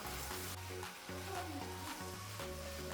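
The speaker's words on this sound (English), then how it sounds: "I added the tomatoes when the onions were slightly translucent and sauteed them" Tomatoes and onions sauté together in a pan, producing a soft, continuous sizzle with light stirring, heard faintly beneath steady background music.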